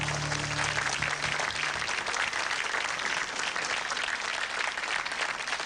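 Sustained applause from a studio audience on a Portuguese television quiz show final, loud and steady throughout with no voices above it.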